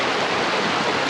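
The west fork of Wolf Creek in the North Georgia mountains rushes steadily past a campsite, a loud, dense, unbroken wash of flowing water with no voices.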